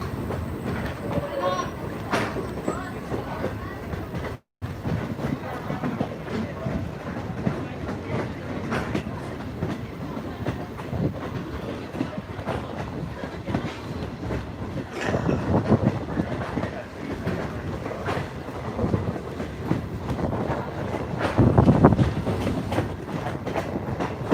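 A Strasburg Railroad passenger train rolls steadily along the rails with continuous rumble and rhythmic clickety-clack through most of the stretch, and someone talks intermittently over it.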